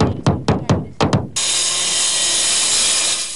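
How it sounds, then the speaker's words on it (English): About six sharp, evenly spaced hammer blows ring out close by as volunteers rebuild in Sparks, then a loud power saw starts and runs steadily, cutting wood. "Lots of nailing and sawing in Sparks this afternoon."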